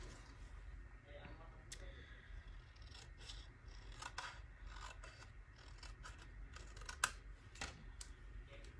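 Scissors cutting freehand around a stamped paper image at a crafting table, a series of soft, close, irregular snips and paper rustles over a quiet room hum.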